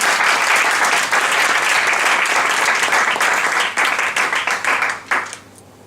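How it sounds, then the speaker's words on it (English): Loud, close applause from an audience welcoming a speaker, dense clapping that holds steady and then thins into scattered individual claps before dying out. "So with your applause, I'd like to welcome you."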